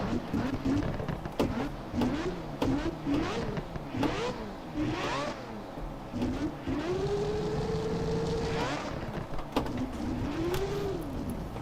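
Simulated 500-horsepower Lexus GS300 at full turbo boost on a track in Assetto Corsa, the engine note rising and falling through repeated revs and gear changes, with one long sustained high pull near the middle, loud and continuous.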